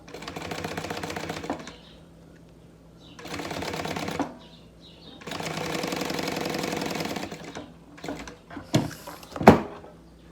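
Sewing machine stitching along the edge of a synthetic leather binder, running in three bursts of rapid, even stitching separated by pauses, then a few close knocks and clicks as it stops.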